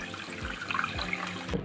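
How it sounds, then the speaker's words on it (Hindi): Water poured into sugar in a pan to make syrup for gulab jamun, a steady, close pouring and splashing sound that runs for under two seconds and stops abruptly. "उतना ही इसमें पानी डाल देंगे चाशनी के लिए"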